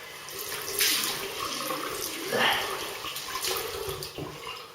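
Running tap water splashes in a sink while a freshly razor-shaved face is rinsed, a close, steady stream with brief surges of splashing.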